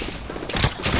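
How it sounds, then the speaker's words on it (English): Gunfire in the battle-royale game Apex Legends: a burst of rapid shots lands in the second half, loud and close, over steady game ambience with a faint voice under it. "We're getting shot on the side"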